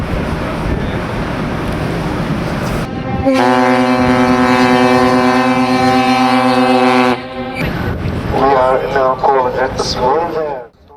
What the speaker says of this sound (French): Après le coup de corne